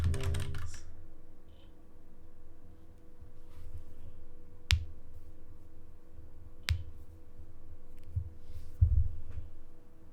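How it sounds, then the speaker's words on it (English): Typing on a computer keyboard, a few sparse, sharp key clicks spaced seconds apart over a low steady hum, fairly quiet and close, with no speech. "So I'll just type it in the chat."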